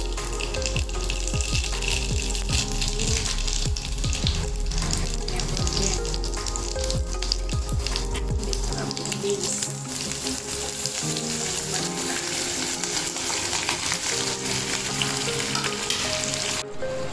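Mustard seeds sizzle and crackle in fully heated oil in a home kitchen pan, a loud steady frying hiss with popping bursts throughout, alone without talk.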